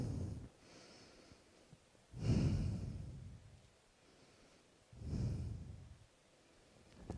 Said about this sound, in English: close the eyes, and breathe here